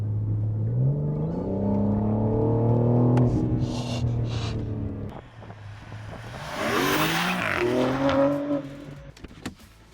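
A 2022 BMW M4 Competition revving and accelerating hard, engine note climbing through gears with a brief lift and roar, close and loud with wind rush building.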